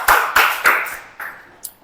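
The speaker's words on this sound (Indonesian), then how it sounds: "tepuk tangan untuk kita semua" A small classroom group claps in a few loose bursts, the sharp hand slaps bunching together briefly and then tailing off into scattered single claps.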